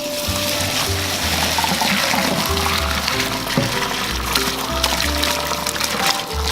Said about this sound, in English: Hot water! And we'll start the draining.